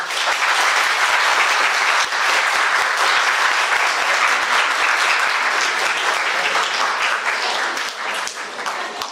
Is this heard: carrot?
no